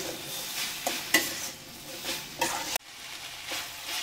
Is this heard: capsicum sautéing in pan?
yes